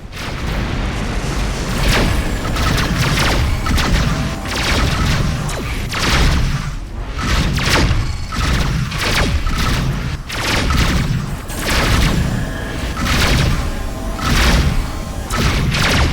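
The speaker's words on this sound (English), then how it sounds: "Missiles inbound." Repeated booming missile explosions in a space combat game set in the Aphrodite Sector, loud and dense thuds and blasts following one another across the stretch with no talk.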